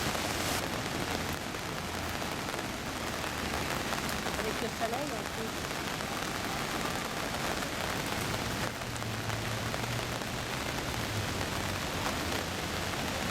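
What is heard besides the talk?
rain falling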